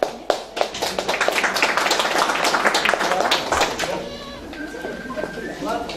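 Lively applause from a crowd at a 60th birthday celebration, dense clapping that builds and runs for several seconds before thinning out, with voices mixed in.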